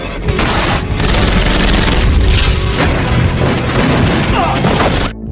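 Gunfire erupts in a film shootout as FBI forces arrive, heavy booming shots and crashes running loud and continuous throughout, with dense rumbling impacts layered over one another.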